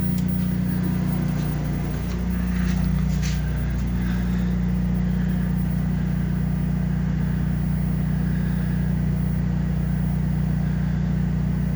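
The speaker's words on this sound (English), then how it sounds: "Because right now the generator's on." A generator runs steadily inside a building rigged with an inverter system and transfer switch, a continuous low engine drone with strong steady hum throughout, a few faint clicks and rattles early on.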